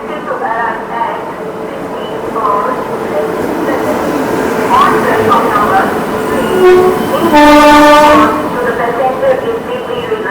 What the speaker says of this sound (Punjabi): ਆਹ ਟ੍ਰੇਨ ਆਪਣੀ ਮਾਲਵਾ ਐਕਸਪ੍ਰੈਸ ਦਾ ਨਾਮ ਹੈ ਟ੍ਰੇਨ ਦਾ